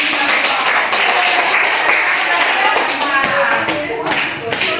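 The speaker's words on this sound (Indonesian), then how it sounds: "Kita beri aplaus" A classroom of students applauding a student group, a dense burst of clapping that carries on steadily for several seconds, close and loud.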